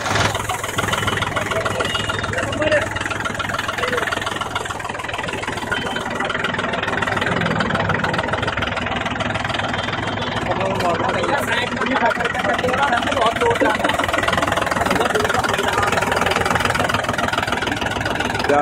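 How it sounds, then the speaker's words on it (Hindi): A Mahindra tractor engine idles close by in a steady, loud, continuous diesel drone with a throbbing low rumble, holding even for the whole stretch, with faint background voices. "आवाज कितनी शानदार है ट्रैक्टर की, आवाज बहुत प्यारी है।"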